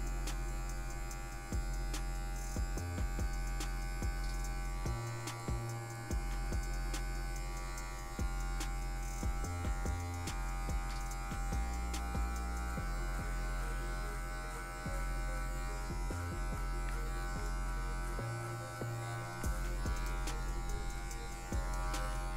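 Electric hair clipper fitted with a number 1 guard runs continuously close by while cutting a fade on afro hair, a steady buzz that shifts in pitch as the blades bite into the hair.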